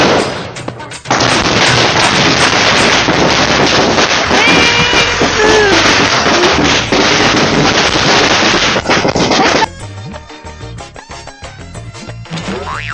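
Diwali Lakshmi firecrackers burst in a long, loud, dense barrage of sharp cracks and rumbling blasts lasting about nine seconds, then thin out into scattered pops and bangs afterward.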